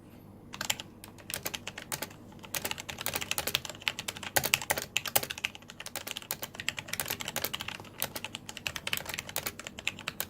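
Keys clatter on a Logitech G512 mechanical keyboard in quick, uneven bursts of sharp clicks, close and alone with no talk.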